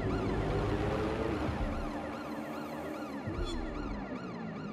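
Ambulance siren in the Watch Dogs Legion video game, wailing in loud, continuous rising and falling sweeps over road and engine noise, with no talking.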